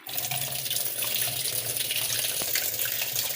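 Water pouring into a Scanfrost twin tub washing machine, a steady close rushing stream that splashes and churns continuously, fairly loud and uninterrupted, with no voices.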